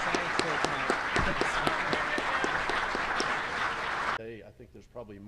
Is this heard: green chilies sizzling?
no